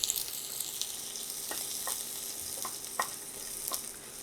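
Shrimp fry in a pan with onions, giving a steady hissing sizzle close by, broken by several soft stirring scrapes spaced about half a second to a second apart.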